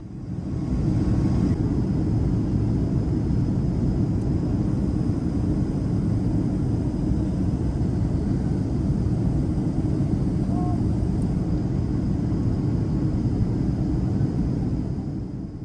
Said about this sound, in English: Please enjoy this beautiful landing into Honolulu, Hawaii.